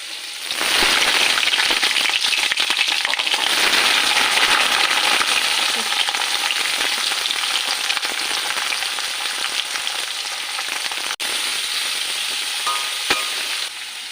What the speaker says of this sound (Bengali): সাদা জিরে ফোড়ন দিয়ে দিলাম। এবার এক এক করে পেঁয়াজগুলো দেব।